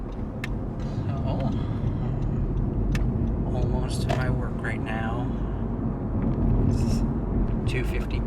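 A car driving on the road on a commute to work, with steady low road and engine rumble throughout and a person talking over it.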